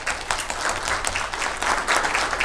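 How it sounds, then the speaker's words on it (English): Conference audience clapping in a hall, a brief burst of brisk, fairly loud applause with a few stronger swells, no voices on top. "So can we have a round of applause?"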